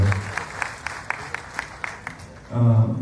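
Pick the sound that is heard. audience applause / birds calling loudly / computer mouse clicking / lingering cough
audience applause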